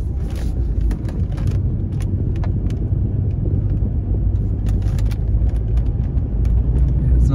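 A car driving past a surf beach gives a steady, loud, close interior road rumble and engine drone that holds for several seconds, with no talking.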